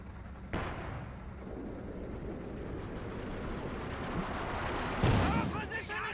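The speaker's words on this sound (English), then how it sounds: "All his troops seem to be grouping up and getting just owned by Momo's indirect fire" Rocket artillery fire from a Calliope launcher in the strategy game Company of Heroes 2, sustained rumbling barrage with a sharp burst early on and another heavy impact near the end, loud and continuous.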